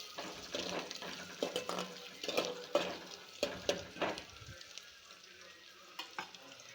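Green chillies hit hot oil in a frying pan while chicken is being cooked, giving a quiet, crackling sizzle broken by several sharp stirring scrapes and clinks, the frying fading lower toward the end.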